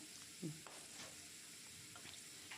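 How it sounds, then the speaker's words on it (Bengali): Potato and bitter gourd fry in plenty of oil, a low, steady sizzle with a few soft stirring scrapes, fairly quiet and close. "অনেকটা তেল ছিল তার মধ্যে আলু করলা ভেজে নিচ্ছি"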